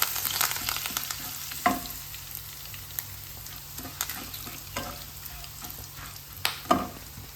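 Curry leaves are dropped into a frying ivy gourd and potato masala and stirred, giving a steady close sizzle with scattered spatter pops and a few louder scrapes of the spoon against the pan.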